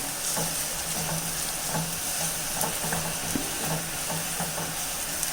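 Small green chilies sauté in a pan for groundnut chutney, giving a continuous close sizzle with light stirring taps and small pops.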